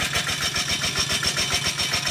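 An engine runs close by with a steady, pulsing mechanical chug and whir, loud and continuous.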